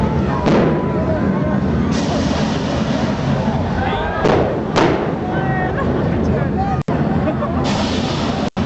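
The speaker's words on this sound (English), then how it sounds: "Men, on my command, fire all cannons." Cannons fire during the Sirens of TI pirate show in Las Vegas, several booming blasts spread across the stretch amid loud crowd and show noise, with voices talking and shouting through it.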